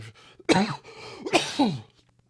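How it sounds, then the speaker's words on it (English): Two harsh, close coughs burst out one after another, each a rough throaty hack with a raspy tail, separated by a short pause and followed by quiet. "those were coughs, but thank you."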